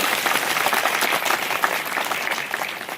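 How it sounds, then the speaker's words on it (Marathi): Steady, dense applause from a crowd at a Shiv Sena political rally, filling the whole stretch without a break and with no clear speech over it. "एकदा टाळ्या वाजवा."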